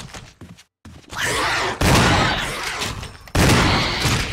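Gunfire in Resident Evil, loud close bursts of rapid shots and impacts in three blocks separated by short gaps, with a brief silence near the start.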